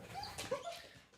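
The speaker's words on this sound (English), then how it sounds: "Why are you whimpering, Ivy Dog?" A dog named Ivy whimpering softly, with a few faint high whines and little yips in a quick cluster, close by and quiet, with no talk.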